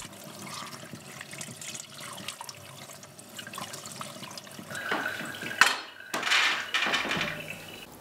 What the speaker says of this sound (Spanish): Luego, se enjuagan con agua.